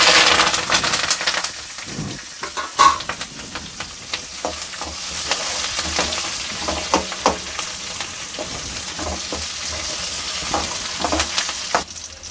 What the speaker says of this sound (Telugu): ఈ ఉల్లిపాయ ముక్కలు, పచ్చిమిర్చి బాగా వేగినాయి కదా